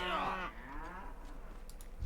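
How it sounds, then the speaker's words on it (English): A single short cow moo from the video game WoW Classic, loud at the start and dying away quickly into faint background ambience. "Cow."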